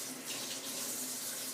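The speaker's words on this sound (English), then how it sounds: "I need to rinse my hands off" Tap water runs steadily into a sink while hands are rinsed under it, a continuous close hiss with no pauses.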